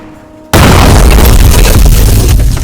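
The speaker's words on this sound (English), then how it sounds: "The bottle hit the stone with a deafening boom." A bottle strikes a stone prison wall at night and explodes in a sudden deafening boom, the blast filling the scene with sustained loud roaring rumble after a brief quiet start.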